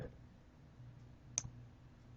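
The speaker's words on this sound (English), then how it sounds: "filter out the occupied units by clicking filter and show only vacant units, and then hit OK" A single faint computer mouse click sounds once near the middle, set against a quiet low hum.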